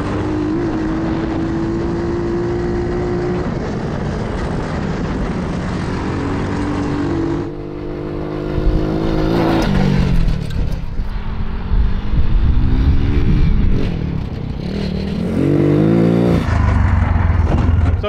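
A Honda ATC 70 three-wheeler fitted with a 140cc engine swap revs hard while riding, the engine note rising and falling through sharp throttle changes and gear shifts, loud and close throughout.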